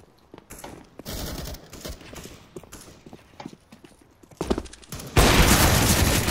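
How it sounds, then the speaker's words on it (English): Counter-Strike gunfire on the de_canals map: scattered shots and bursts of rapid fire come in a few separate clusters, ending in a loud, sustained volley, with no talking. "I just turned the corner, just like blind firing."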